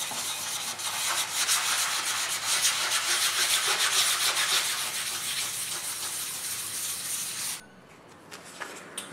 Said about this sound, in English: I'm going to use that and sand over it again with the wet